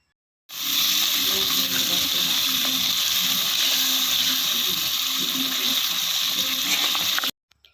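Lamb (dumba) shinwari karahi fries in half a cup of cooking oil on high heat, giving a loud, steady sizzle that starts abruptly, holds for about seven seconds and then cuts off.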